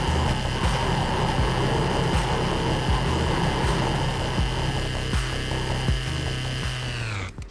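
A chainsaw revs continuously in the VR shooter game Serious Sam, a loud steady mechanical whine with layered game effects and repeated impact hits underneath, cutting off at the end.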